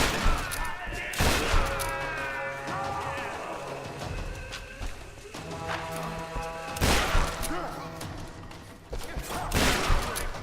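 Shotgun blasts sound during combat in the Tomb Raider 2013 video game, with several loud booming shots and crashing impacts spread across the scene, all over continuous game effects and music.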